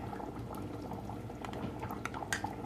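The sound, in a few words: batter boiling in pan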